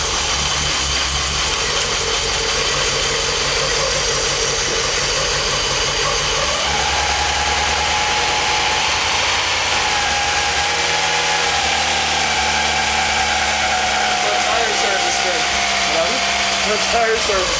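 A freshly rebuilt car engine idles loud and close just after starting, holding a steady rumbling drone with a slight shift in pitch partway through, while voices talk over it.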